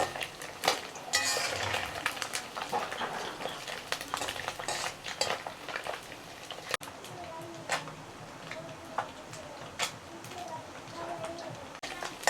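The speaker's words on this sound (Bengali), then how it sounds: "আপনারা চুলার আঁচটা হালকা তাপে রেখে এপিট ওপিট করে উল্টিয়ে ভেজে নেবেন" Fish fries in a hot pan over low heat with a soft crackling hiss, while metal utensils clink and scrape now and then as pieces are flipped, and a voice murmurs intermittently.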